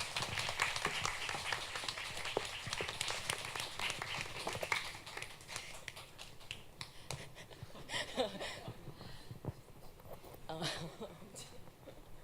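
An audience at a youth forum on culture, arts and gender claps to welcome a speaker. The clapping is faint and scattered, thins out over several seconds and mixes with quiet voices.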